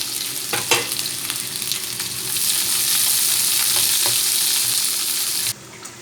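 Onions and small green chillies frying in oil for a fish puttu, a steady loud sizzle with occasional stirring clatter near the start, rising in intensity before cutting off abruptly near the end.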